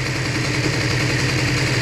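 A Bidalot RF 50 WR motorcycle idling from a cold start while it warms up, a steady, loud, close engine drone that holds even throughout with no revving.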